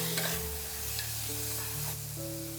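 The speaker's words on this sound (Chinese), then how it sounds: "加入甜椒拌炒" Bell peppers stir-fried with shiitake mushrooms in a wok at home, a soft steady sizzle with scraping stirring strokes, close and moderately quiet, no talking.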